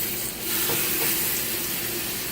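Pork searing in a hot pan during cooking for pulled pork or carnitas tacos, giving a steady, close, continuous sizzle and hiss with faint stirring, no talking.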